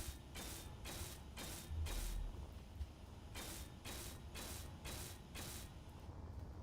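Blocks being welded in Space Engineers make repeated bursts of mechanical rattling. They come in two groups of quick pulses separated by a short pause, faint and steady.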